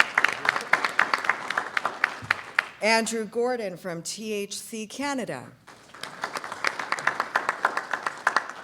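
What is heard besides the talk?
audience applause at a leadership event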